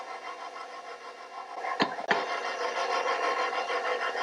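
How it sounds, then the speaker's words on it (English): A stand mixer on low speed works banana bread batter, giving a steady mid-pitched motor whir with a faint rasping of beaters in the bowl and a brief clatter partway through. "You want the mix master to go on a low speed"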